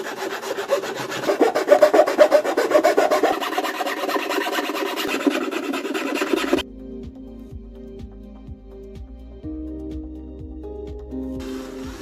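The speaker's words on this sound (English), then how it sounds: "it can be easily refined with a hand file." Steady rasping of a hand file scraping a wooden box in repeated strokes, close and fairly loud, ending abruptly and giving way to quieter, sparse knocks and faint tones.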